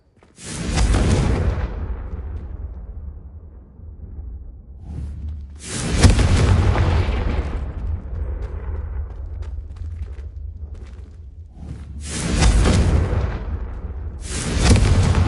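Booming fiery blasts from the Confringo spell in Hogwarts Legacy hit candelabras, roughly four loud explosive bursts with rushing rumble trailing between them.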